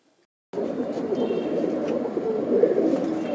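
A pigeon coos close by, a low throaty burbling that starts abruptly after a brief silence and rolls on steadily.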